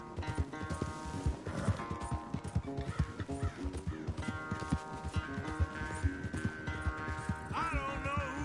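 A horse gallops in a video game race, with a quick rhythmic clip-clop of hooves beneath a music score and a brief whinny near the end.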